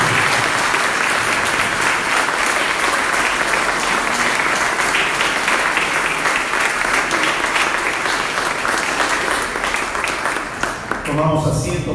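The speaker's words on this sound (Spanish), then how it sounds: "Vamos a dar un fortísimo aplauso a Jesucristo." Loud, sustained applause from a church congregation honoring Jesus Christ, dense clapping filling the room for about eleven seconds before tapering off at the end.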